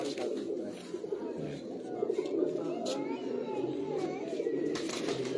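Pigeons coo continuously at close range, a dense low murmur from a group of birds kept at a pigeon-rearing loft, with soft mixed chatter and small background noises throughout.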